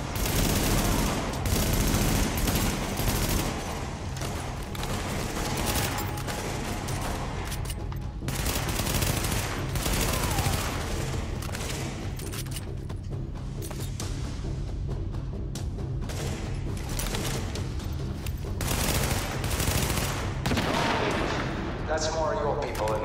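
Gunfire in The Division, bursts of shots cracking through a dense, busy game mix with music and effects, steady and loud across the whole stretch, with a voice talking at points.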